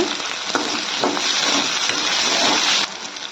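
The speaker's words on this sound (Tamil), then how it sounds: "ஒரு கைப்பிடி அளவு கருவேப்பிலை சேர்த்து நல்லா வதக்கிக்கோங்க" Shallots, ginger, garlic and curry leaves sauté in a pan for a fish curry, giving a steady, close, loud sizzle with occasional stirring scrapes that cuts off sharply near the end.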